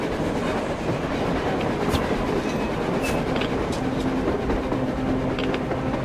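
A train rolls along rails on the surface in Metro Exodus, a loud continuous rumble with rhythmic clacking and faint squeals, steady and close throughout.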